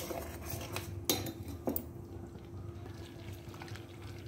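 A spoon clinks and scrapes in a pot of finger millet kheer with brown sugar, with two sharp metallic taps standing out over a soft, steady background hum.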